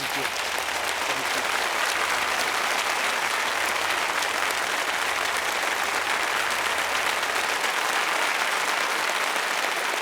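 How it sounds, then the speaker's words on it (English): Sustained round of applause from an audience at an evening tribute event in Washington, D.C., even and continuous clapping filling the room for about ten seconds. "So let's all give Warren a round of applause to thank him"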